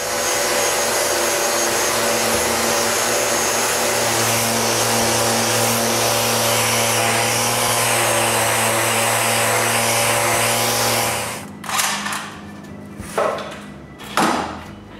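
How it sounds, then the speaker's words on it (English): A power sander buzzes steadily against wood for a long stretch, then cuts off, followed by a few short knocks and shuffles. "When I'm done, I sand away the pencil marks."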